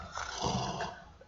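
A person imitates snoring with one short, rough, throaty snore, up close and fairly quiet.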